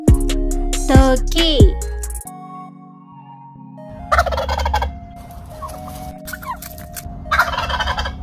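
A turkey gobbles loudly in rapid bursts near the start and again later, with quieter music between the calls.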